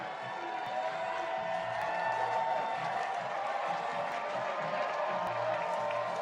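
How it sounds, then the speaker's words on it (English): Stadium crowd at the women's elite rugby Legacy Cup final between Denver Onyx and Bay Breakers, a broad sustained roar of cheering voices, distant and steady throughout, with a commentator's voice faintly beneath it. "The crowd just swelling tonight."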